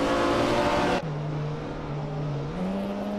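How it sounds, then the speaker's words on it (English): A Ferrari 512 BBLM race car engine in a racing video game roars loudly, then drops abruptly to a lower steady drone before its pitch climbs again as it reaccelerates. "La Grand Enchanter is racing a Ferrari 512 BBLM."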